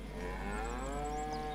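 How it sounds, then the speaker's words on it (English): Cows mooing in the farming video game Farming Simulator 25: one long, steady, drawn-out moo with a rich harmonic tone, close and loud, with no talking over it. "the cows look fine"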